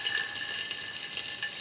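Shallots sizzling in a hot pan, a bright, steady frying hiss with faint crackles running continuously through the short moment, no talk over it.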